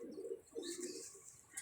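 A pigeon coos softly in two or three low rounded phrases, close by and quiet, with faint higher background noise and no talking.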